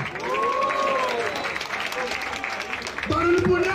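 A crowd at a rap battle cheers and applauds for a rapper, a loud, sustained roar of clapping and shouting voices that swells again near the end.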